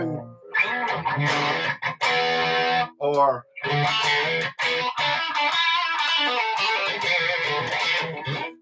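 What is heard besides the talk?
electric guitar with Super Distortion pickup, coil split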